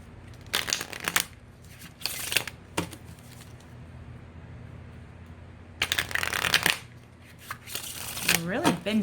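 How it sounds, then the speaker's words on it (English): Several bursts of thin, bendy homemade linen cardstock cards being shuffled, crisp riffling swishes separated by pauses, fairly close, with a brief voice near the end. "They shuffle really well."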